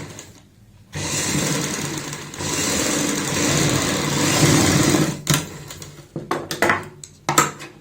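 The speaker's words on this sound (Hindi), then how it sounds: "सेम इसी तरीके से इस साइड में भी सिलाई लगाएंगे" A sewing machine stitches a coat-style collar seam on a kurti, running loud and fast in one long steady burst and then breaking into short, stop-start runs of stitching.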